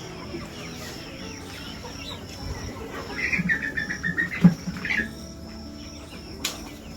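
Chickens cluck in short bursts over a steady rural background hum, fairly close, on a farm where the birds have a virus causing red eyes.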